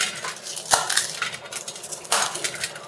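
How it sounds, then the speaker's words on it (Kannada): Crisp puri pieces are crushed on a plate with a utensil while masala puri is made in a home kitchen. There are irregular clinks and crunchy taps of metal on the plate, close by and with no talk. "ಈ ಪೂರಿನ ಸ್ವಲ್ಪ ಸ್ಮ್ಯಾಶ್ ಮಾಡಿ"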